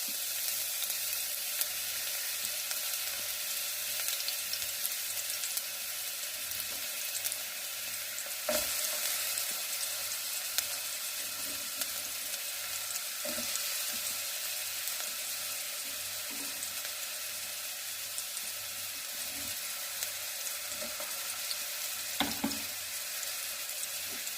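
Chopped onions sizzle steadily in a pot for sauce, a continuous soft frying hiss with occasional faint knocks and stirring sounds, heard close with no talking.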